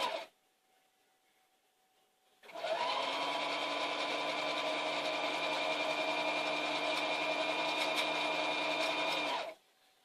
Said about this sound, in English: If you sew like this